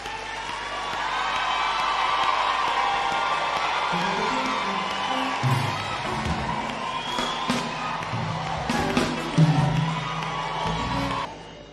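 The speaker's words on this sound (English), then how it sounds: "Can we clap for Ramaphosa?" A crowd claps and cheers for Ramaphosa, loud whoops and shouting rising over sustained applause, with a voice speaking over the noise.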